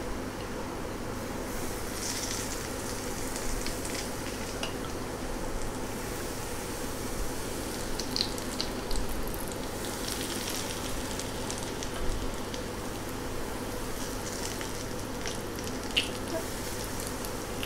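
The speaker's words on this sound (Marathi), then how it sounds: "पूर्ण मसाले व्यवस्थित तळले गेले पाहिजे।" Whole spices frying in oil for Khandeshi raw mango pickle, a steady soft sizzle and crackle with scattered small pops, continuous and close, no voices.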